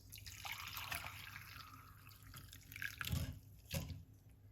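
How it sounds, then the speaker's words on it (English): Rosemary tea poured from a pot into a cup, a soft watery trickle with two brief louder splashes near the end, faint and close. "So we're going to pour off this cup of tea."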